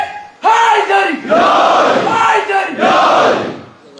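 A crowd at a Muharram majlis shouts the Haidari slogan in loud, repeated group cries, with three or four surging chants in quick succession and no separate speech.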